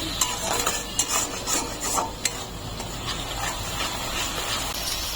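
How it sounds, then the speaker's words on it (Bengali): Ground cumin, coriander, chili and turmeric frying with tomato paste in a pan, a steady close sizzle with scraping stirring strokes and a few sharper clicks of the spatula against the pan. "একটু জিরের গুঁড়ো, ধনের গুঁড়ো, লঙ্কার গুঁড়ো, হলুদের গুঁড়ো। মশলাগুলো একটু কষিয়ে নেব।"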